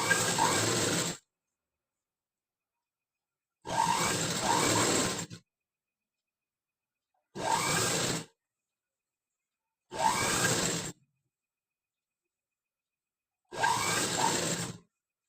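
A sewing machine stitches piping on a blouse in five separate bursts, each a steady whirring run of one to two seconds with silent pauses between, close and clear.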